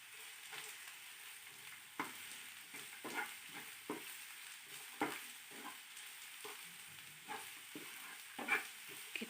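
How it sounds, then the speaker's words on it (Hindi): Capsicum fries in a pan with carrots, a soft, fairly quiet sizzle with repeated stirring clicks and scrapes at irregular intervals, and no voice over it. "अब हम इसके अंदर शिमला मिर्च को डालते हैं और उसे फ्राई करते हैं"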